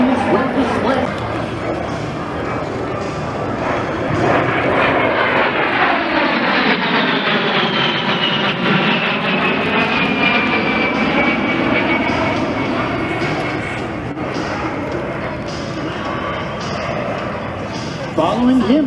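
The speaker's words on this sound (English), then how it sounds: "that beautiful P-51 Mustang with a slow roll" P-51 Mustang flying a slow roll at the Props and Pistons Festival airshow, a loud piston-engine roar that swells and sweeps in pitch as the plane passes, then fades, with an announcer talking over it.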